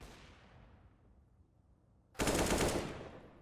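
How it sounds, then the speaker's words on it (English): A short, loud burst of Kalashnikov rifle fire in a Counter-Strike match, a sudden dense rattle of shots after a fading tail of earlier gunfire, close and sharp. "getting the job done with initially the French rifle and now the Kalashnikov"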